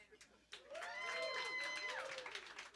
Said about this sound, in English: How many people here feel like they're here with the person of their dreams? Clap it up.